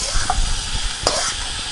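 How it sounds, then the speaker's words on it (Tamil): Coconut paneer laddu mixture with sugar is stirred in a hot pan, giving a steady broadband sizzle with soft, irregular spatula scrapes and one sharper scrape about a second in, close and fairly loud, with no voices. "இது அப்படியே நல்லா மிக்ஸ் பண்ணிக்கோங்க"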